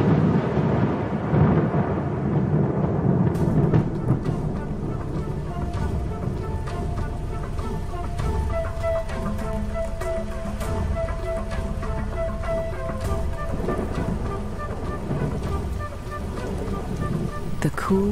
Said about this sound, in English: the promised rain arrives at last.